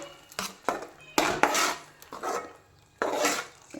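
A utensil scrapes and knocks against a pan in several rhythmic bursts as spinach is stirred into a tomato curry with ginger and green chilli paste, close and clear with no talk.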